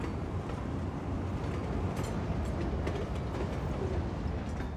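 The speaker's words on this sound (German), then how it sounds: "Hier ist ganz schön was los mit den Zügen." Trains rolling along rail lines in the city-building game Cities Skylines 2, a steady dense rumble with faint clattering, continuous and fairly close throughout, no talking.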